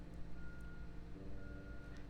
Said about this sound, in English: That is a truck.